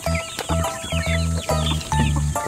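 A Rhode Island Red chicken offered for sale clucks nearby in a steady run of short, throaty bursts, about five or six in quick succession, with no talk over them.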